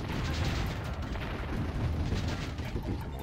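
Mortar artillery fire in the strategy game Warzone 2100, a steady dull rumbling wash of distant impacts without distinct individual blasts, fairly faint.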